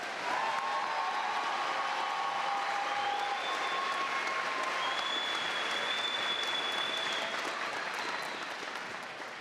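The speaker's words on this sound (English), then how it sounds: "Let's have a final applause for our new master's graduates." Sustained applause from a college commencement crowd celebrating new master's graduates, a broad steady roar of clapping with faint whistles or tones drifting over it, tapering slightly at the end.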